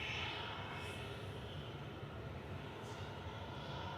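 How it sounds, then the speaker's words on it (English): A Sunno airline plane at Manchester Airport gives off a steady broad engine roar, a continuous distant rumble of jet noise with no talk over it. "Sunno is a good-looking aircraft."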